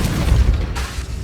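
Confringo fire spell exploding in the video game Hogwarts Legacy, a brief loud booming blast with a dense low rumble and crackle.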